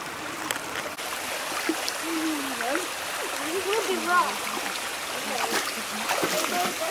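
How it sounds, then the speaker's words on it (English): A stream flows beside a waterfall among rock outcroppings and spring flowers, a steady, moderately loud rushing wash running the whole time while a person talks over it. "And the sound of the water is awesome."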